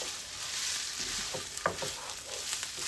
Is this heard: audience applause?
no